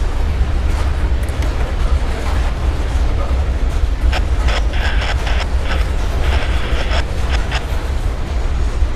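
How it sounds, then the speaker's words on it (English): A Norfolk Southern freight train rolls past on the rails at Coffey's Cliff, a heavy continuous rumble close by with clicks and faint wheel squeals over it, and no talking. "Our outbound train"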